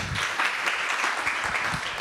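An audience at a community college student development seminar applauds to welcome the principal, a steady wash of clapping from a crowd that holds even and moderately loud throughout.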